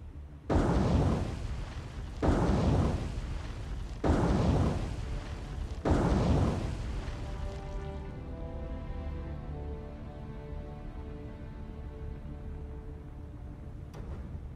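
Four loud, booming explosions about two seconds apart as a ship is hit and sinks in the naval war game War on the Sea, followed by a long rumbling, ringing tail of wreckage and fire.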